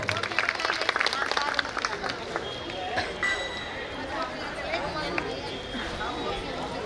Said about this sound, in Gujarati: જોરદાર તાળીઓના ગડગડાથી આપણે બતાવો